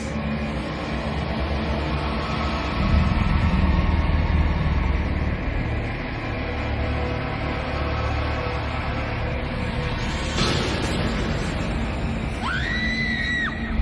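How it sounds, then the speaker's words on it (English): Several girls screaming in fright in a bedroom, a loud, sustained shrill wash of voices that fills the whole stretch, with a few sharper rising cries toward the end. "The girls got scared and screamed and left"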